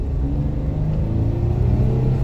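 Jeep Wrangler JK with an iDrive throttle controller accelerating from a slow crawl, a loud, steady engine rumble and rising drone close by, with no voices.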